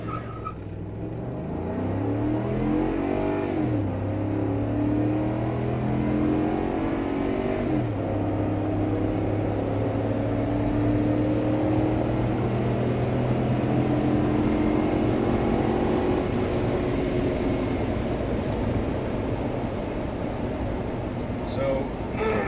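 A stock 5-liter Ford F-150 truck pulls away from a full stop and accelerates hard, the engine climbing through several gear shifts in a loud, steady roar heard from inside the cab.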